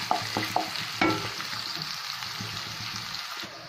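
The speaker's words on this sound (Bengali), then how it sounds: "তাহলে পেঁয়াজটাকে ভেজে নিচ্ছি" Chopped onions frying in hot oil in a pan, a steady close sizzle with a few sharp scraping stirs near the start, continuing alone without talk.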